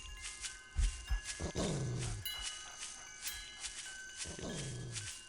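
Dogs in the video game Shadow Man Remastered growl in low, rolling snarls, a few separate growls rising over a soft game ambience with light clicks.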